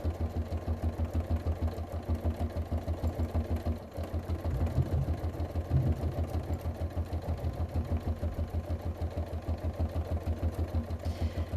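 A sewing machine free-motion quilting with thick bobbin thread, a steady rapid mechanical chatter of stitching running at an even pace, close and continuous with a brief dip near four seconds, no speech.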